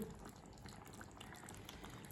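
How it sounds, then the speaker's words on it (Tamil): A pot of chicken curry with spice powder simmers at a low, steady boil, giving a faint continuous bubbling and gentle hiss with no talking. "கொதிக்க விடுவோம்"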